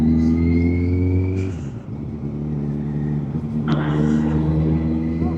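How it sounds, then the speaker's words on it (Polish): Several motorcycles ride past close by in a Polish moto vlog, one engine's steady drone dropping away before another surges and revs past, loud rumbling passes over constant wind noise. "Jadą motory."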